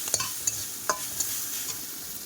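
Beetroot frying in a pan gives a steady soft sizzle, with a few light scrapes and taps of a spatula stirring it, all fairly faint and without talk.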